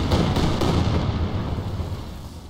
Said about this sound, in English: Ooh, even more cannons too.